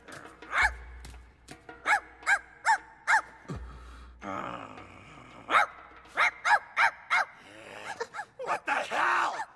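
Dog barking in an anime scene, several sharp barks in quick bunches with short gaps between them, mixed with grunts and gasps from a man.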